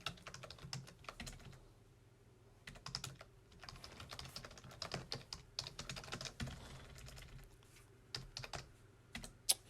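Fingers tapping a computer keyboard in uneven bursts of quick keystrokes with short pauses, close and soft, no one speaking.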